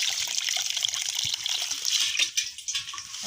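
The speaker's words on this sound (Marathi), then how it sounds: "असं पाणी टाकलं याच्यात" Water pours steadily into a pot of raw rice for washing, a continuous gushing splash close to the microphone that wavers and sloshes near the end.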